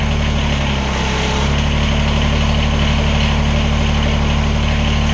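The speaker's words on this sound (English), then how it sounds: "I'll move the backhoe up." Kubota BX23S compact tractor with its backhoe arm being raised, a loud steady diesel engine drone with hydraulic strain, close and continuous without talk.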